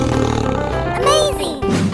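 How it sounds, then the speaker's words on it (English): A tiger roars loudly and continuously, a deep, rough, sustained growl that fills the short stretch from start to finish. "Tiger."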